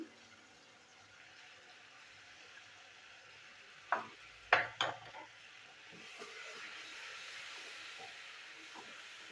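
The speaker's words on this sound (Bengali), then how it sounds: "এই কাঁচা লঙ্কা টমেটো আমি একসাথে কষিয়ে নেবো।" Green chillies and tomato paste are sautéed together, giving a quiet, steady hiss broken midway by a few sharp utensil knocks before the sizzle settles into a slightly fuller, even sound.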